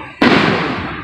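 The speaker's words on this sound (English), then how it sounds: "Those are M80s or whatever they call those things." An M80 firecracker bursts with one loud, sudden boom outdoors at a park fireworks gathering, its rumble fading over the next second.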